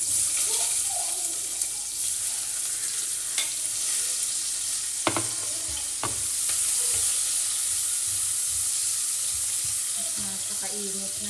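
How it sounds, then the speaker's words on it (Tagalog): Pork liempo sautéing in a very hot pan, a steady close sizzle of frying with scattered clinks and scrapes of stirring, no voices over it. "hanguin na natin mga mahal ko at igisa ko na to"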